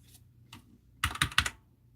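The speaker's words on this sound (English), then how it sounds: "So, I mean, I can type." Typing on a computer keyboard: a couple of faint isolated key taps, then a quick close burst of several louder clicks.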